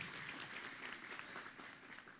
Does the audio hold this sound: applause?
yes